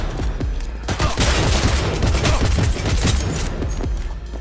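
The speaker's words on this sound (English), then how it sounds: "Heard shots." A dense, loud burst of rapid gunfire from the video game Cyberpunk 2077, many close overlapping shots cracking and booming in quick succession for several seconds with no pause.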